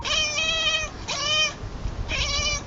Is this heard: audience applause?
no